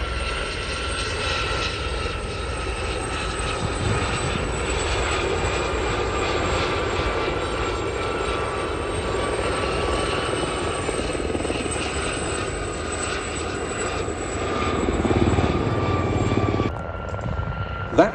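Gazelle HC4 helicopter flying a display at an air and country show, a continuous loud turbine whine and rotor drone that swells slightly toward the end before cutting off abruptly.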